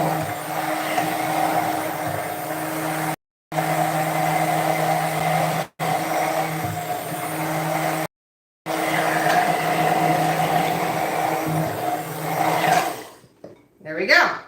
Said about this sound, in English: put our already dirty from making the mayonnaise immersion blender down in here and blend it